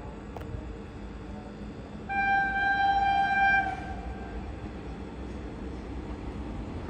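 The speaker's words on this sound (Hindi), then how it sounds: "आ चुकी गरीब रथ एक्सप्रेस और काफ़ी स्पीड नहीं है इसकी।" The Garib Rath Express arrives at night, its horn sounding a clear tonal blast for about a second and a half over a steady, low rumble of the approaching train.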